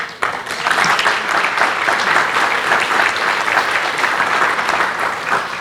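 Audience applause at the close of an engineering talk by a Knight Piésold Consultores manager, a dense, steady clapping that fills the room from start to finish with no voices over it.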